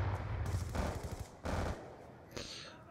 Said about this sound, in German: Dauerfeuer und ich töte nichts, ne?